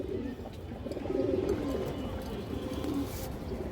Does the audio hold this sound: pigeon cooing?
yes